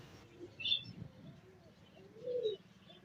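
American lakka pigeons in a bird shop give a few soft, low coos, faint and close, with short gaps between calls and a light chirp in the background.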